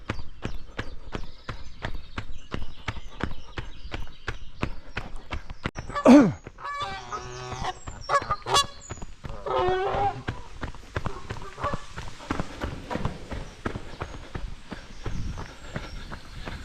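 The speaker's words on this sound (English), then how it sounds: "A lot of angry Canada geese here." Several loud Canada goose honks burst out near the middle, over a steady run of crunching footsteps that continues throughout.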